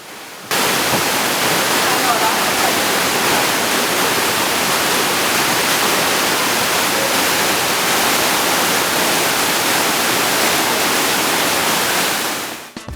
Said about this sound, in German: In der Schlucht gibt es auch einen Wasserfall, er heißt der Schreebach.